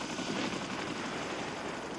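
A military medium transport helicopter fills the air with a steady, loud rotor and engine roar. The sound holds unbroken and alone throughout.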